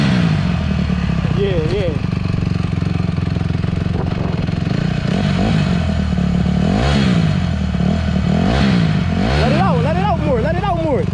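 A dirt bike engine runs steadily after a hot start, its low, even idle continuing throughout while people talk close by over it.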